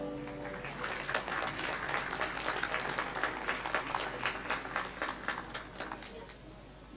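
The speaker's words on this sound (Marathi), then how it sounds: "जोरदार टाळ्या होऊन जाऊ देत या सगळ्यांसाठी." An audience at an evening Diwali music concert claps in a sustained burst of applause that swells quickly, holds for several seconds, then thins out and fades.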